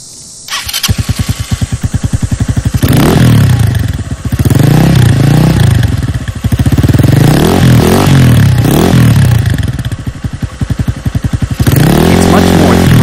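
Motorcycle exhaust fitted with a baffle, started and then revved repeatedly up and down, with a loud close throaty roar and clattery low tone between revs.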